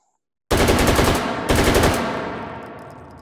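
Two gunshots in the H3VR virtual reality shooting game, heard with a narrow indoor reverb setting, each a loud, sharp crack followed by a short echo that decays slowly, with nothing else heard.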